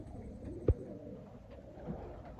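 Soft, low cooing from a Pakistani pigeon, quiet, with a brief louder coo standing out against faint background noise.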